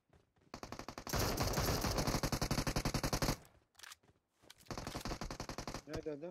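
Automatic gunfire in the mobile game PUBG Mobile, with loud rapid bursts of shots in several long strings separated by short pauses.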